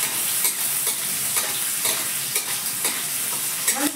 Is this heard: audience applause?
no